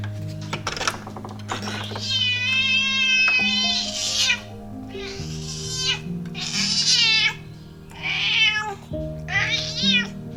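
A cat meows loudly and insistently for its morning food, repeated drawn-out cries over a steady background hum, with a few brief gaps between calls.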